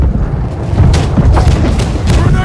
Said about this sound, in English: Cannons are prepared to fire.